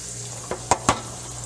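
Bacon and eggs frying in beer in a pan make a continuous soft sizzle, broken by three sharp utensil clinks near the end.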